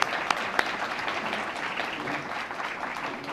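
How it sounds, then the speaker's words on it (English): Students at a 2013 MSc-GH commencement ceremony applauding, a steady wash of many hands clapping at moderate loudness throughout, with a few sharper individual claps near the start. "I noticed the students were clapping"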